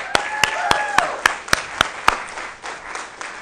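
Applause at a NASDAQ closing bell ceremony, several sharp individual claps standing out over a softer crowd clapping bed, with a brief whistle-like tone early and the clapping thinning toward the end.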